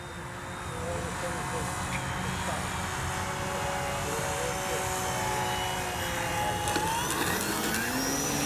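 A Flex Mamba 10 G2 RC airplane comes in to land, its small electric motor whining steadily with shifting pitch at a moderate distance under a windy outdoor background.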